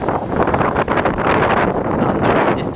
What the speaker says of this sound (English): And the wind is picking up, of course.